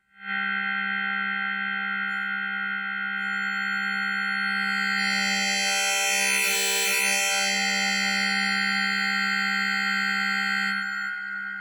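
A sustained, buzzy synthesizer tone with folding clipper distortion that grows harsher and brighter in the middle, then settles back. No voices.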